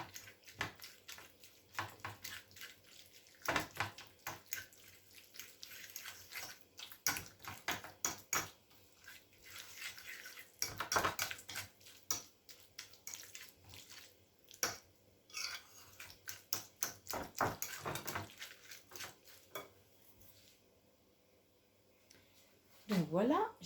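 Fresh cheese and pepper being mixed in a bowl, heard as a long run of dense clicking, scraping and tapping utensil strokes, close and fairly loud, with a brief quieter pause near the end.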